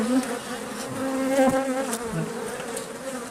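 Honeybees fill an open hive with a dense, continuous buzzing hum, close and steady, with individual bees droning past now and then.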